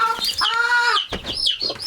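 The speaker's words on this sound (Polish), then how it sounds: "Kurczaczki tu są, wszystkie." A flock of farmyard chickens clucks close by in a run, with a string of short, rising and falling calls that overlap one another for a couple of seconds.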